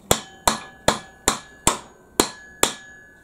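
A hammer taps a nut into place on a lathe motor, giving seven sharp metallic knocks at a fairly even, unhurried pace, each ringing briefly before the next, close up and alone.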